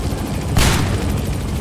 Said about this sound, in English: Supposed to lose the damn helicopter.